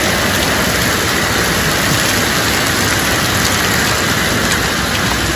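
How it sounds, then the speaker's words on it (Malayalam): Heavy rain pours down steadily, a dense, loud, unbroken roar of drops beating on surfaces close by. "നല്ല മഴ അവിടെ മഴ നോക്കിക്കേ"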